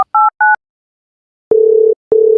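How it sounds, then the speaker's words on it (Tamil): A phone call being placed: a short burst of keypad dial tones is followed by a steady, fairly loud ringback tone sounding in long repeated pulses, with no voices. "சரி, ஒரு கால் பண்ணி பார்ப்போம்."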